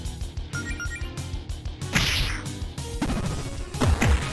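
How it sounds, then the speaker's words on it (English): A giant boar in a role-playing video game chomps down on a cheap sword and shatters it: rhythmic clinking hits give way to a loud smashing crash, then further heavy whacks and a swishing impact. "The behemoth boar chomps down on Allison's cheap sword, shattering it."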